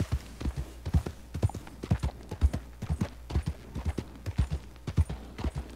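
Horse hooves clip-clop in a steady, brisk rhythm across the Heartlands plains in Red Dead Redemption 2, close and clear with a faint low hum beneath.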